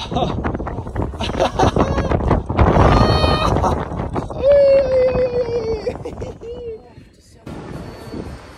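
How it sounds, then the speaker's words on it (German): Wind buffets the microphone in loud, rough gusts while people talk and exclaim, with a brief rising whine in the middle. "Oh, das ist wirklich windig."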